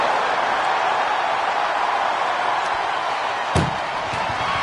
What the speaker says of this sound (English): at least slam one door shut.